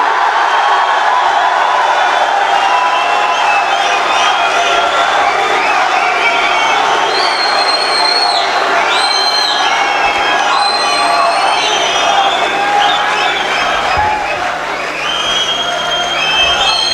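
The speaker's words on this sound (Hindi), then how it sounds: "भरपूर तालियों में इस्तकबाल कीजिएगा" A large mushaira audience welcomes a poet with loud, continuous cheering, whoops and shouts, with clapping mixed in. The dense crowd noise stays close and sustained throughout.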